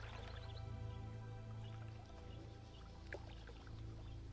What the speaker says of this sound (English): the water noise in this game